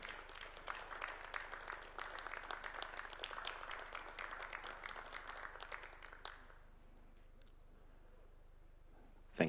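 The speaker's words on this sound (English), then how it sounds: "and a round of applause" Guests at a State House ceremony marking a Kenya–Slovenia meeting give a round of applause, a steady, somewhat distant patter of many hands that carries on for several seconds before dropping away to near silence.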